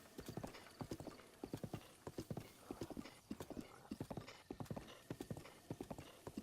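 Horse hooves clip-clop in a steady, quick rhythm across an open field in The Legend of Zelda: Breath of the Wild, near an equestrian riding course, with repeated clear hoofbeats over soft game ambience.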